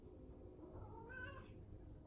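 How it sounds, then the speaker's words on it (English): A house cat meows once, a drawn-out rising and falling call in the middle of a quiet room with low background hum. "My cat is yelling at me."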